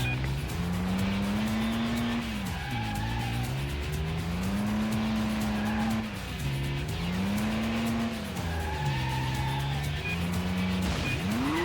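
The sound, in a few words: car racing and skidding in the Stuntman video game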